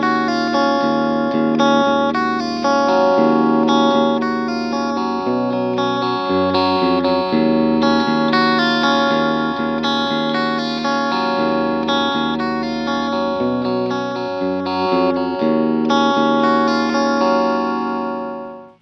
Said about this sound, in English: Notice how the clean guitar tone changes and the mid-range shifts as we turn the crossfade control from one